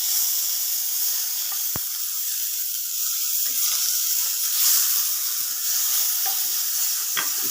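Tomato frying in a pan with bitter gourd and onions, a loud continuous hiss and sizzle with a single sharp click and a few soft stirring scrapes.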